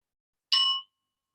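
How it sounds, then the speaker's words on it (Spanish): A meditation bell struck once to open a sitting practice: a single clear, bright ding that sounds alone and fades quickly into silence. "Voy a tocar una campana, un sonido para dar inicio a la práctica"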